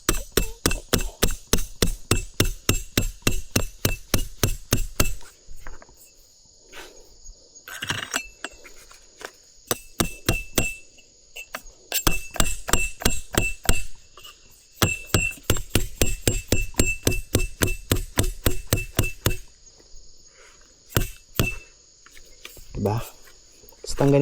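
Tent stakes are hammered into the ground at a motocamping site in Bangkong Kahoy Valley, giving rapid, steady metallic taps in long bursts with short pauses between them, close and loud.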